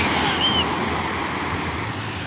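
Sea waves on the shore at Kerteh, Terengganu, Malaysia roar as a broad, continuous wash of surf. Wind runs through it and one faint high tone sounds briefly.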